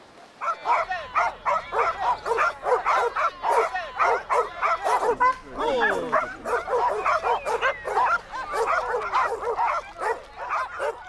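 Young puppies yip, whimper and bark in quick, repeated high-pitched bursts for about ten seconds, close and fairly loud, with a brief whining stretch midway.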